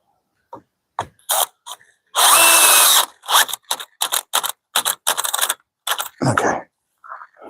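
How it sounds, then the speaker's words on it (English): A power drill drives screws into wood during a DIY mini truck camper build, with repeated short whirring bursts and one longer sustained run, close and loud, separated by brief pauses. "let's go ahead and drill it back out"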